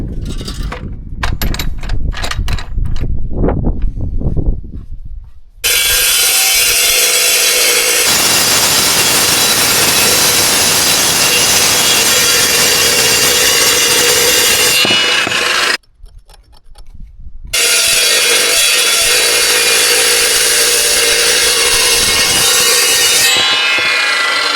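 A loud, steady power-tool grind cuts a groove into a metal plate part of a NC Link & Sweep 600 feeder, broken by a short pause and a few scraping bursts at the start.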